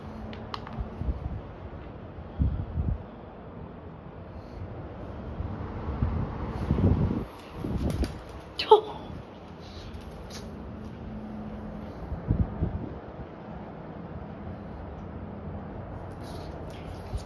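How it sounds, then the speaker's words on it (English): Gusty wind buffets the microphone outdoors on a balcony, rumbling low and uneven with a few louder blasts and a brief rustle midway. "Kind of a windy day"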